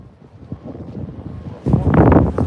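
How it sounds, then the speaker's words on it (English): Wind buffeting a microphone outdoors at a street protest in Hollywood, a low rumbling flutter under faint speech that swells into heavy, close gusts toward the end. "It's a little windy here"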